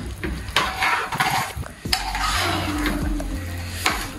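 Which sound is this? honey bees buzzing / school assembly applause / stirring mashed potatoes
stirring mashed potatoes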